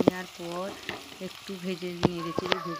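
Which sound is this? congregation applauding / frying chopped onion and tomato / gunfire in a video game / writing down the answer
frying chopped onion and tomato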